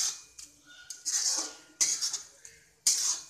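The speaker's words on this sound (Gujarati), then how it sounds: "બધી જ વસ્તુને પ્રોપર મિક્સ કરી લઈશું।" Onion masala mixture being stirred in a pan for Bombay-style masala pav, a spoon scraping and clinking against the metal in several short bursts, close and fairly quiet, with no voices.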